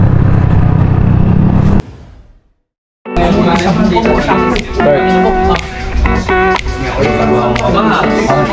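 Road traffic on a motorcycle ride between Baguio and La Union: loud, close engine rumble and revving cuts out briefly, then returns busier with clattering vehicles, while people talk over it.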